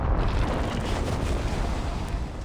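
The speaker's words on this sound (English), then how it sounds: "I'll create a terrible explosion from the horrific magic of Satania" A magic explosion in the Epic Seven game: a dense, loud, sustained roaring blast of noise that fills the whole stretch, rumbling heavily at the low end with no voices over it.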